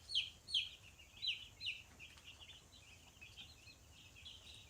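American Bresse baby chicks in a garage brooder give a few high, thin peeps in quick pairs, then the chirping fades to faint, scattered calls over a low background hum.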